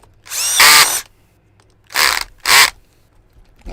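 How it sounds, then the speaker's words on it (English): A Bosch 18-volt cordless drill, set to a low clutch setting, fires in three short bursts while mounting a wheel on a GMade GS02 RC crawler: one longer whirr, then two quick close zips with quiet gaps between. "this is like an 18-volt drill. Set it to about 6 out of 18 because it's a Bosch one."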